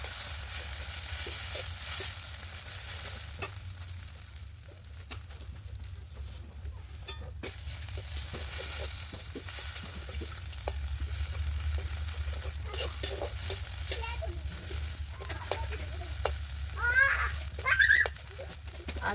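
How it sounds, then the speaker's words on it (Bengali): Ginger and cumin paste frying with kulke greens in a home kitchen pan, a steady low sizzle running throughout with occasional stirring scrapes and clinks, a voice briefly heard near the end. "এবার দেবো আদা আর জিরে বাটা একসঙ্গে, শাকের সঙ্গে ভালো করে ভেজে নেব"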